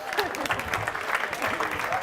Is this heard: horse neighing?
no